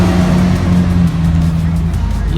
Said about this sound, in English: Got the Carrera 4S cab pulling away.